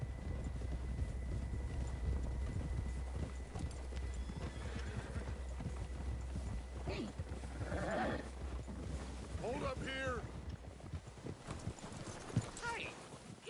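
Horse hooves clip-clop steadily in the background in Red Dead Redemption 2 while someone speaks briefly and other horses snort and whinny nearby.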